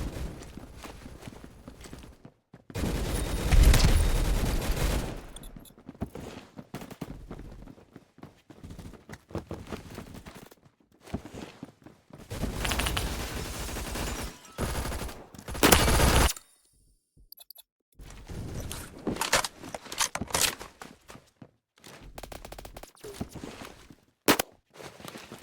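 Gunfire from Roblox Phantom Forces, including shotgun blasts, comes in loud, dense bursts separated by brief quiet gaps, with rapid shots and footstep-like clatter between volleys.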